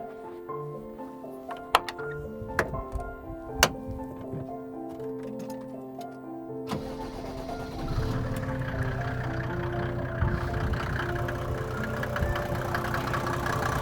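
Soft ticking gives way to a Mercedes G-Class diesel engine with a mechanical pump starting and settling into a steady idle, a continuous low rumble close by.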